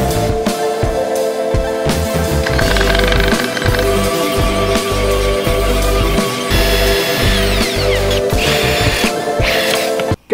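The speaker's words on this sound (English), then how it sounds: "Got the fourth gear support all drilled and it's ready to go." A power drill bores into the fourth gear support of an 02M VR6 transmission, a loud, steady whining grind with rhythmic pulses, running almost continuously before cutting off abruptly at the end.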